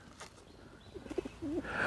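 Pigeons at an Australian wildlife park give a few soft, low coos in the second half, rising slightly near the end, over quiet outdoor ambience with no talking.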